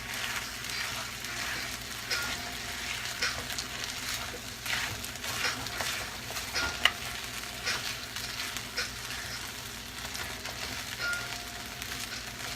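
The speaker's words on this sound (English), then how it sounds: "let's stir this fucker some more" Fried rice with soy sauce being stirred in a hot pan: continuous sizzling with repeated scraping and tossing strokes, with no talking.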